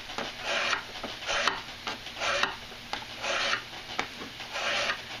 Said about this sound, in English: But I'll use the draw file for a little while. As you can see, all that metal just peels right off of there.